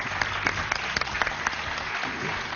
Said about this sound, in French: Là, Benoît, il n'y a pas eu beaucoup d'applaudissements là-dessus.